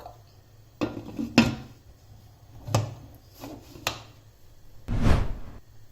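A lid is set onto a pressure cooker of dal in a kitchen, giving several separate metallic clanks and knocks spaced across a few seconds, the last one fuller and ringing briefly.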